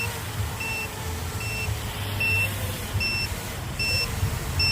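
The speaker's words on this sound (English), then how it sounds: "Okay, so we got the battery beeping." A small racing drone's battery low-voltage alarm gives a string of short, evenly spaced high beeps over a steady low hum outdoors in light rain.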